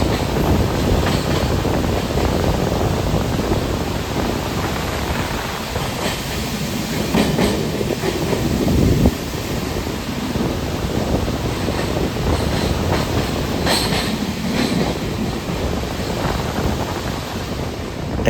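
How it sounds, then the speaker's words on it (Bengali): A passenger train rolls slowly across the long Farakka Barrage over the Ganges at dawn, with a continuous loud rumble and rattle of wheels, faint periodic clacks over rail joints, and heavy wind buffeting the microphone throughout. "ট্রেন খুব স্লো পেরোচ্ছে ফারাক্কা ব্যারেজ।"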